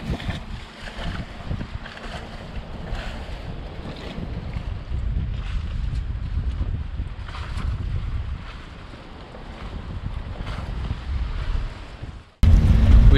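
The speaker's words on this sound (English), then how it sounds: "Oh, these waves are ridiculous." Choppy waves slap and rush around a sailboat after its anchor is raised, with heavy wind buffeting the microphone in a continuous loud roar and a sharp louder burst at the very end.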